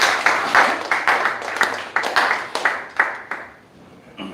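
A small group at a workplace safety day ceremony claps in a loose, fairly even rhythm for a few seconds before the applause fades out.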